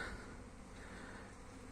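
Honeybees buzz steadily as they fly around the hive on a cleansing flight, a continuous soft drone with no voices.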